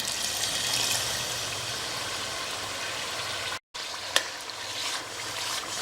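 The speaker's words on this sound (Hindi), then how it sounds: "इसे भुनने के लिए अब हमें कंटिन्यूस इसे चलाना पड़ेगा और देखते रहना पड़ेगा।" Masala with garlic and ginger sizzles and fries in a pan while being stirred, a steady crackling hiss with a brief scrape of the spoon, no talking.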